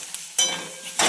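Eggplants for a stuffed brinjal masala hit hot oil in a pan. Loud sizzling and frying bursts in and swells, with a brief stirring lull before a second strong burst of sizzle, and no voices.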